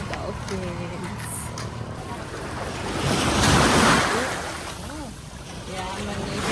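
Ocean surf at a beach in Bohol, a steady wash of breaking waves that swells to a louder crash in the middle. Wind buffets the microphone and people talk faintly in the background.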